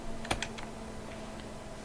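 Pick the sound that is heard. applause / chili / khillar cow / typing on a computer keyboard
typing on a computer keyboard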